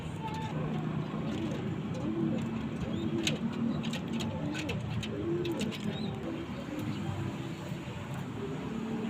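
Breeder pigeons in a loft coo steadily and overlapping throughout, with occasional higher chirps above a constant low murmur of the flock.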